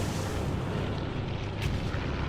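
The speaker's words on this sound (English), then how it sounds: "Heavy AA fire." Heavy anti-aircraft fire in the Pacific air combat game Air Conflicts: Pacific Carriers, a dense, continuous barrage of rumbling bursts close by, with one sharper pop standing out near the end.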